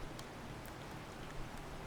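Rain falls in the 7 Days to Die video game as a steady, soft hiss with faint scattered drops. It stays even and fairly quiet throughout, and no voices are heard.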